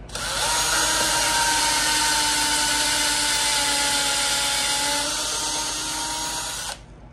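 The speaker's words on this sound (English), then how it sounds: "I'll drill at an angle." A power drill bores into wood at an angle while building a bluebird house, running steadily at high speed for about six and a half seconds, loud and close, its whine holding a constant pitch before stopping abruptly.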